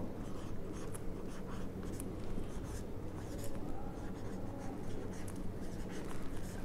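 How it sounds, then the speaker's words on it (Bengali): A pen scratches across paper in continuous, close strokes during an accounting lesson, the steady scribbling rising and falling with each written line, with no speech over it. "তাহলে আমি লিখব"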